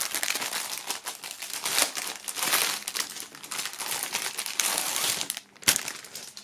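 Plastic foil wrapping on a music album crinkles and tears continuously as it is peeled off, close and fairly loud, with no talking.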